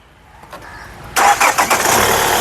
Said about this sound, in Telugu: ఒకసారి ఇంజన్ స్టార్ట్ చేసి చూపిస్తానండి